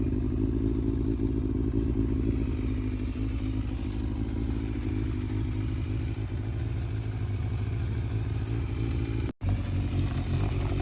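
A Yamaha Fazer 600 motorcycle engine idles while warming up, a close, steady mid-pitched rumble with light mechanical clatter and a brief dropout near the end.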